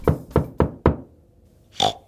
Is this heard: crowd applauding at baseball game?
no